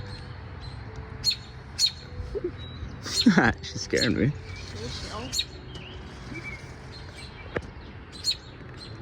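Small bird at its nest gives sharp, high chirps and short tweets scattered across the clip, fairly close, while people talk over and between the calls.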